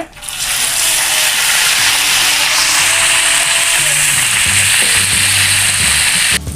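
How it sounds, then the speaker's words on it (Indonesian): Teri anchovies frying in hot oil, a loud continuous hiss and sizzle close by, steady for several seconds with occasional scraping and stirring underneath. "Oke, lanjut kita goreng terinya Bunda."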